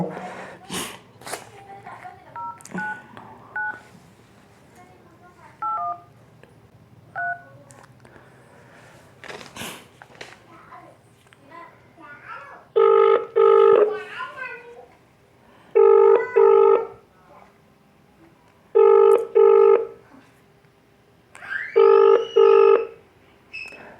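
Touch-tone keypad beeps, then repeated ringback tone bursts, as a phone call is placed to an office of a Hyderabad company at night; the short dialing tones come early, followed by four loud paired ring tones with faint background noise between them.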